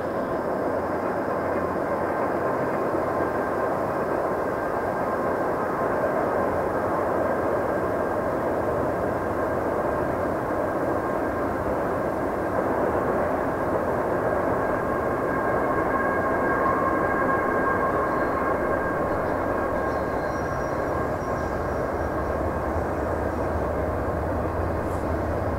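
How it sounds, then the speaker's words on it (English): A steady, heavy rumble roars on without pause as a train passes at night at a distance, dense low noise with a faint hum above it. "hearing one of the trains pass in the night"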